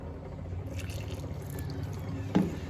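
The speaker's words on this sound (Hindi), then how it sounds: "तो ये जो है हम इकट्ठा कर लेंगे पानी डाल के, थोड़ा थोड़ा डालेंगे हम 4 से 5 बार" Water poured a little at a time into maize flour in a bowl for roti dough, a soft continuous trickle close by with a small splash near the end.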